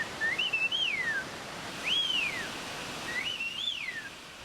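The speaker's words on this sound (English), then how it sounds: "The elder men can carry on conversations in whistled speech." Whistled speech by older men, carried as three separate rising-and-falling whistled phrases, each about a second long. The whistles sound clear and fairly close over a steady background hiss, with no talking.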